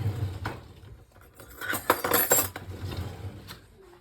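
A utensil scrapes and clinks against a dish while jarred pasta sauce is stirred for an angel hair pasta bake, with a few brighter metallic taps in the middle and soft scraping around them, close and alone.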